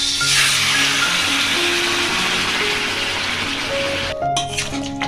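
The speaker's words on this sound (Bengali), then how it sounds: "কড়া গরম হয়ে গেছে এবার মাংসটা দিয়ে দেব" Chicken pieces for a chicken korma hit a hot kadai and sizzle loudly in a dense, continuous hiss close by, then scrape and clatter faintly as they settle near the end.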